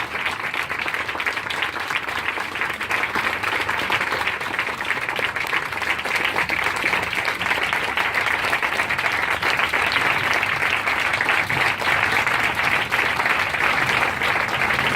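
A crowd at a Race for Life event applauds a speaker for a long, unbroken stretch: loud, even clapping from many people that holds at full strength the whole time, with no talking over it.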